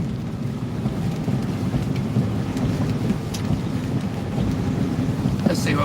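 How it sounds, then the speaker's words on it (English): Steady rain pours down on a truck in Virginia, a dense continuous hiss mixed with wind buffeting the microphone, with a few sharper patters near the end. "It is rainy and rainy rain."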